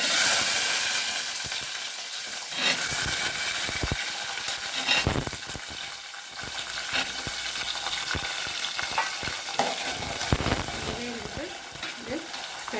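Garlic and small onions fry and sizzle in oil in a pan for okra kara kuzhambu, a loud steady crackling hiss broken by stirring scrapes and clinks.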